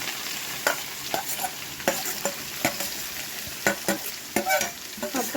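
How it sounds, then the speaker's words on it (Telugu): Vegetable pieces stirred into a hot cumin tempering sizzle steadily in a pan, with repeated scraping strokes of a spatula at an irregular rhythm, close and moderately loud, no voices. "తాలింపు వేగింది కాబట్టి ముక్కలన్నీ వేసేసుకొని"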